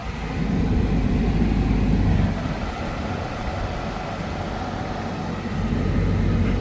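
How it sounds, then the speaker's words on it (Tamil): A Maruti Suzuki Wagon R, an old model, idles with its air conditioner switched on, giving a steady close-up engine hum and blower whoosh that holds level throughout, with a slight dip in the middle and no talking. "ஏசி ஆன் பண்ணி பார்த்துக்கலாம்."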